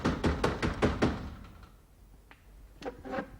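Someone raps quickly on a wooden house door, a fast burst of about six knocks followed by a few softer, scattered taps after a short pause, fairly close.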